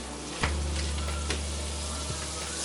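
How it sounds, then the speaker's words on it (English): Butter melting in a hot pan for chicken chili, a loud, steady close sizzle with a few brief stirring clatters and no talk. "we're gonna take our butter and we're gonna melt it in the pan"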